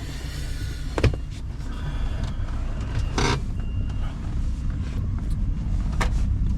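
Highway traffic roars close past a parked truck, with a constant rumble of engines and tires and several sharper whooshes as individual cars pass near.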